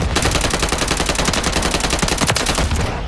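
Loud, dense automatic gunfire in the video game Modern Warfare 3, rapid shots running together in a continuous close barrage that fills the whole moment.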